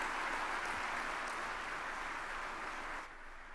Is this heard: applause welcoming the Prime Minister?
yes